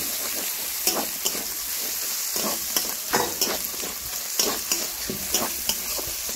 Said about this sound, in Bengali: এবারে দিয়ে দিচ্ছি বেগুন কুচি, আরও একটু ভালো করে নাড়াচাড়া করে নেব